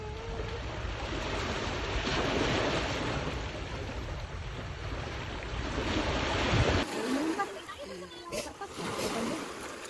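Sea waves wash steadily onto a shallow beach on a sunny summer day, a broad continuous surf roar with wind. It drops to quieter lapping water near the end, and voices can be heard over it.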